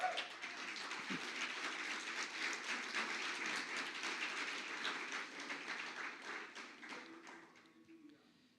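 A church congregation applauds during a sermon, sustained crowd clapping heard from some distance under a speaking voice, thinning out and fading toward the end.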